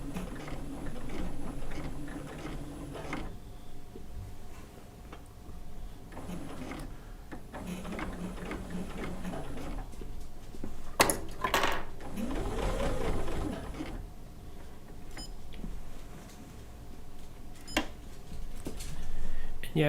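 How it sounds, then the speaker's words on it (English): A domestic sewing machine stitching a quilt top at reduced speed gives a steady mechanical whir and needle chatter in several runs, stopping and starting between pauses, with occasional clicks and a voice talking in the background. "I'm going to slow the machine speed down a little bit, so I want to be able to turn it as I'm stitching."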